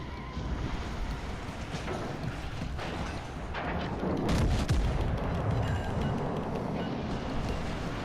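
Secondary guns on HMS Agincourt in World of Warships: Legends fire in a steady rumbling barrage of booms under wind-like roar, with a louder cluster of shots near the middle.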